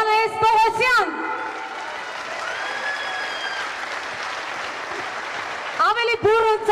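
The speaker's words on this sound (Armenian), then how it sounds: "ավելի բուրը ծափողջուններ" Audience applause fills a concert hall after a live performance of an Armenian song, a steady wash of clapping that holds for several seconds while a singer's voice briefly sounds at the start and end.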